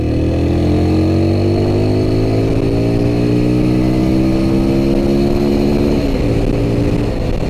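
A TVS Apache RTR 200 4V motorcycle engine hums steadily while riding in urban mode, with rising and falling engine harmonics as it gathers speed, loud and close throughout, no voices.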